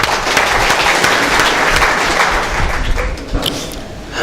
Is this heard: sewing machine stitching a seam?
no